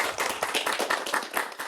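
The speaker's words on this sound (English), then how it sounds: "let's give her a round of applause" A seminar audience at the Maryland Robotics Center applauds a speaker, producing dense, steady clapping from a modest crowd with no talk.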